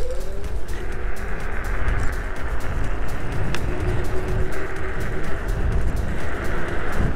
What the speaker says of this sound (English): I'm going to take this on the road now and show you what these tyres sound like.